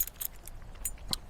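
A set of keys jangles up close beside a Jaguar XJ6 daily driver, producing a few quick metallic chinks and rattles over a low, steady background hiss, with no voices.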